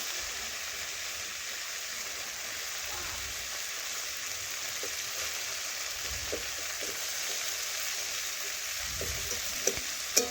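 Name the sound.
okra being stirred and fried in a pan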